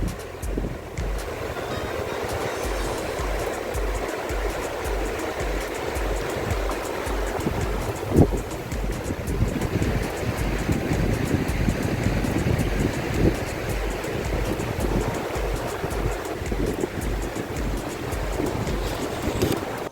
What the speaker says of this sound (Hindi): ये आप देख रहे हैं पानी का बहाव, ये गंगा जी का बहाव है। और पानी की आवाज़ सुनिए आप, कितनी तेज है।